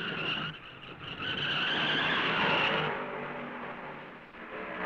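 At the 1970 Darlington Southern 500, David Pearson's two-ton race car skids to a stop just short of the guardrail, flat-spotting its tires, with a loud, sustained tire hiss that swells, holds, and slowly fades over several seconds.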